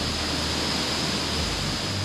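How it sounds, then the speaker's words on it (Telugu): Thoseghar waterfall near Satara, Maharashtra, sounds as a faint, even hiss of falling water heard from a distance, steady and unbroken, with no voices. "అక్కడ ఉంది పెద్ద వాటర్ ఫాల్"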